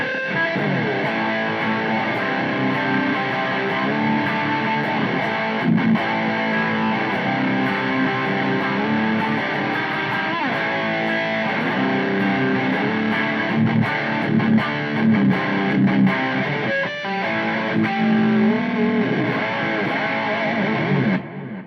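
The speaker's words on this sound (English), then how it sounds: "let's go lead and distortion" A heavily distorted electric guitar through a Boss GT-100 multi-effects unit on a lead distortion setting plays a thick, sustained lead line, gritty and loud, with bends and held notes throughout.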